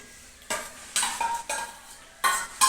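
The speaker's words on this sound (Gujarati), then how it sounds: "હવે આપણે એને પકાવી લઈએ મિક્સ કરીને." Spinach gravy with paneer is stirred in a pan: a spoon scrapes and swishes in five short, separate bursts over a soft background simmer.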